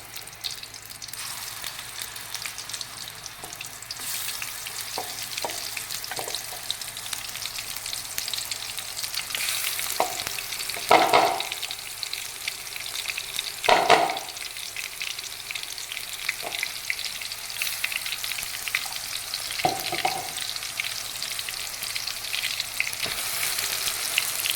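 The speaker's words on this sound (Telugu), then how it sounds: "ఆయిల్ బాగా మరిగాక అల్లం, వెల్లుల్లిపాయ, ధనియాలు, జీలకర్ర పేస్ట్ వేసేయాలండి" Ginger, garlic, coriander and cumin paste fries in hot oil for a crab curry, giving a steady close sizzle with a few louder bursts of spatter and stirring and no voices.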